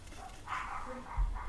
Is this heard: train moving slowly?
no